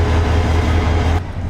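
Hyundai Rotem-built locomotive 2908 hauling the 21-coach Tista Express, a steady loud rumble with low engine drone throughout, easing slightly near the end.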